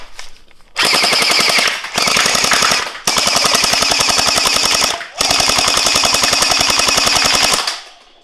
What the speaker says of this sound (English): So we're going to go ahead and shoot them now